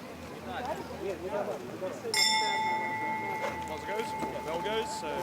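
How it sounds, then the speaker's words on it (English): A single bright bell strikes during a modern pentathlon mixed relay final in Budapest, ringing out and sustaining over steady crowd noise and a commentator's voice. "Bell goes, so Zarova."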